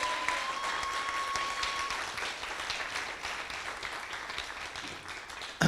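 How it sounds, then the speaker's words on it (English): Audience applause at a tour event in Seattle, a broad sustained wash of many hands clapping, moderately distant and even, slowly tapering toward the end before a sudden louder knock. "So please give my wife a really big round of applause"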